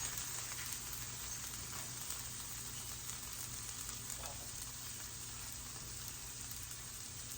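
Onions and peppers cooking on a hot griddle make a steady, dense sizzle that stays loud and even throughout, with no voices over it.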